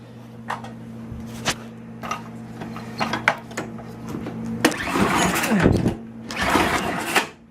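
A Craftsman 10/32 small engine is cranked repeatedly but fails to start, with rattling clicks and mechanical pulls followed by longer grinding cranking bursts over a steady low hum, close to the listener.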